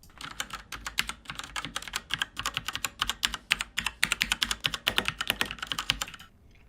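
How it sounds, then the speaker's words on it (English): Mechanical keyboard typing sound effect playing from a website button: a fast, steady run of crisp clicky keystrokes, close and fairly loud, building slightly before stopping abruptly near the end. "you can hear the mechanical keyboard sound."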